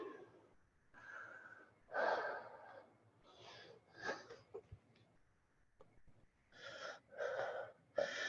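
Slow, deep, audible breaths during an exercise class, each long inhale and exhale drawn close and breathy with short pauses between.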